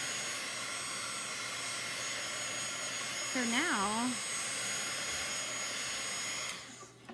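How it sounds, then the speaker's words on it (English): A mini blow dryer runs with a steady, close whooshing hum that continues for several seconds before cutting off, while a voice speaks briefly over it. "it has a mini blow dryer in it"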